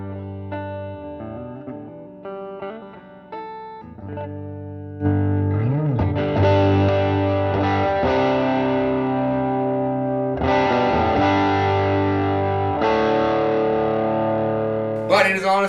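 A Gibson Les Paul electric guitar, heavy and weight relieved, played through distortion: a few clean-ish picked notes give way to loud sustained overdriven chords and ringing riffs, close and full, with no talking.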